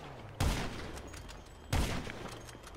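Police open fire in GTA Online: two loud, distinct bursts of rapid gunshots, each one sharp at its onset and then trailing off, separated by a short gap.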